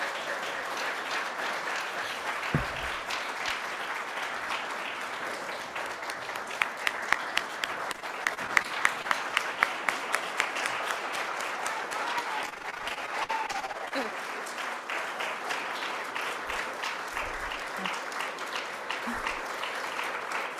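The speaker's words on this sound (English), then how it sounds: "Round of applause." A church congregation applauds steadily and warmly for a beloved staff member at a Unitarian Universalist service, dense sustained clapping from a large crowd filling the room for the whole stretch.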